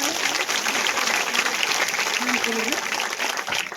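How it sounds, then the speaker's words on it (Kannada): An audience claps loudly and steadily at a village Ambedkar Jayanti celebration, a dense, sustained patter of many hands close by, with a voice heard faintly over it. "ಒಂದು ಜೋರಾದ ಚಪ್ಪಾಳೆ"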